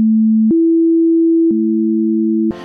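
A pure sine tone steps between two steady pitches a perfect fifth apart in a 3:2 ratio, lower, then higher, then lower again, as in early Pythagorean tuning, each note held clean and loud before a brief burst of noise at the end.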